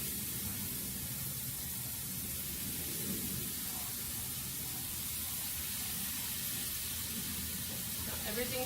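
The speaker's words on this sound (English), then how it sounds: "You can hear that sizzle. The sugar, the brown sugar, are going to create that nice crust on the food." Pineapple slices coated in butter and brown sugar sizzle on a hot grill. A steady, soft, crackling hiss runs throughout, with faint voices in the background.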